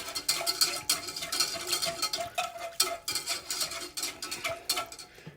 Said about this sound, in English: And I'm going to stir this up, get this all blended in together